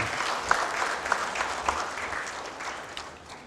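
An audience applauds at a graduation ceremony for young medical doctors, a dense, sustained wash of clapping from a large hall that holds steady for several seconds without speech.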